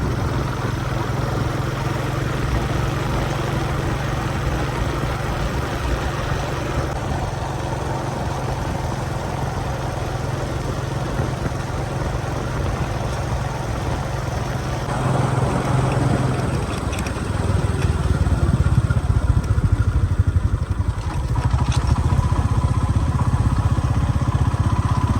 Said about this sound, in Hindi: हम अब निकलते हैं अपनी बाइक लेके